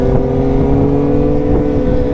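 A Kawasaki Ninja ZX25R motorcycle engine runs steadily while riding, a loud continuous droning hum with slight surges and no break across the short stretch.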